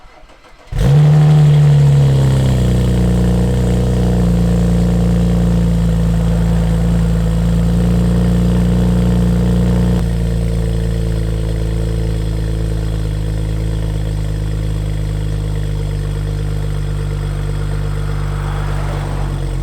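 A BMW 335i with an aftermarket downpipe and stock exhaust cranks and fires, briefly flaring its revs, then settles into a steady, loud, close idle with no talking.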